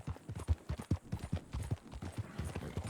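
Horse hooves clip-clopping steadily in the Red Dead Redemption 2 video game, a close, rhythmic walking gait of hoof thuds repeating throughout with no talk over it.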